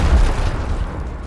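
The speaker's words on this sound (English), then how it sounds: "Clear them out with a frag grenade" A frag grenade bursts in the Gears Tactics video game, a single deep rumbling boom that fades over about a second.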